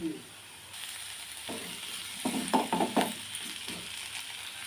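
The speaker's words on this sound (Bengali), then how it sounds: "আলুটা ভাজা হয়ে গেছে বন্ধুরা তারপর টমেটোটা দিয়ে দিলাম" Fried potatoes in a pan with tomato just added for aloo dum, a low sizzle under a run of spatula scrapes and knocks, clustered in the second half, with no voices.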